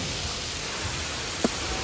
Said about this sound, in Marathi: आणि मोटरसायकल पावसात चाललं आहे बघा